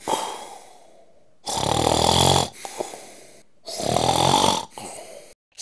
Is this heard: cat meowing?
no